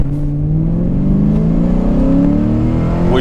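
A Ford Mustang Mach 1 engine revs, its low throaty drone climbing steadily in pitch, loud and close with no talk.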